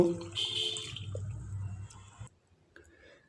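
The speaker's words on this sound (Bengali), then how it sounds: "জল দিয়ে দেব" Water poured into a cooking pan, a brief splashing pour with gurgling and a hiss in the first two seconds, then fading to quiet with faint drips.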